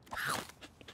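A cartoon character takes a crunchy bite of a cupcake, a short crisp crunch followed by a few smaller chewing crackles, close and clear.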